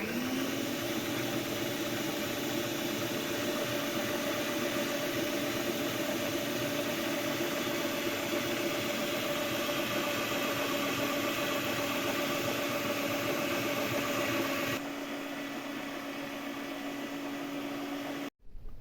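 A steady mechanical whirring drone of an electric meat grinder grinding hot cooked pork and liver, running continuously for a long stretch, then abruptly cutting off.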